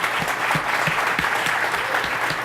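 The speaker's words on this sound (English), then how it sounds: "give these guys a huge round of applause" Loud, sustained applause from a school event audience, a dense steady wash of many hands clapping close by without pause for the whole span.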